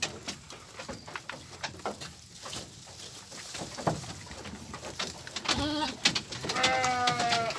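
Sheep given fermented feed munch and shuffle close by, with crunchy chewing and rustling throughout and a few bleats toward the end, alongside cooing birds.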